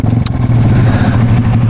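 A Kawasaki Ninja 300 motorcycle engine runs close by with a steady low idle rumble and faint mechanical clatter, holding level for the whole short stretch.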